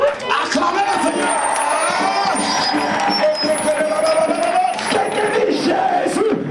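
A church congregation cheers and acclaims the Lord at a healing service, a loud sustained roar of many voices with whoops and shouts filling the whole stretch without a break.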